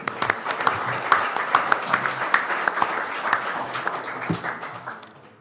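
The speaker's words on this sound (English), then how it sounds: "Give him a round of applause." An audience at an evening executive forum event applauds, a dense, steady round of clapping from many hands that fades toward the end, with a voice faintly present underneath.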